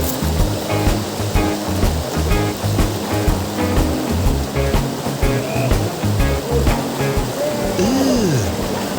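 A forest river rushes and churns continuously nearby, a steady flowing wash with faint voices and a few brief tonal chirps mixed in.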